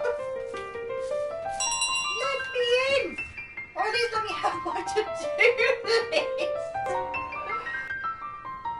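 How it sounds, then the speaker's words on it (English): In Untitled Goose Game, a small bell carried by the running goose jingles in bright, repeated rings, mixed in with playful game music and sound effects while a person talks over it. "carrying the bell, which makes a noise whenever you run"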